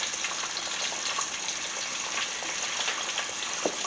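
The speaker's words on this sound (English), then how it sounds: "you just want to keep adding liquid a little bit at a time till you get your gravy to the consistency" Liquid poured steadily into gravy cooking in a pan for a Southern fried pork chop meal, a continuous close gushing pour with no talk.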